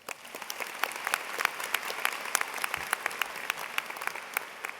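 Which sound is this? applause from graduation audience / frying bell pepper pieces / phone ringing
applause from graduation audience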